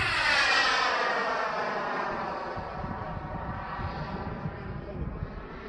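Turbine engine of an Aerofoam F5 model jet spools loudly, a rushing roar with a bright whine that eases slightly and stays steady, with wind noise on the microphone.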